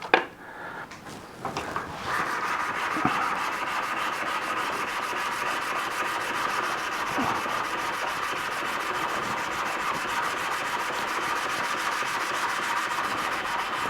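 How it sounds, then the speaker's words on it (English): A river stone is rubbed flat on a diamond sharpening stone, a steady gritty scraping that runs almost unbroken and close up after a few brief knocks at the start, with no talking. "Now I try to flatten the surface on this diamond stone."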